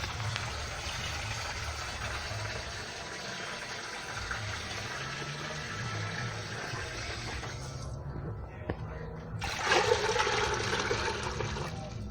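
Water poured into a pressure cooker in a home kitchen while cooking stew peas and chicken foot, a steady rushing pour that breaks off briefly near the end before resuming.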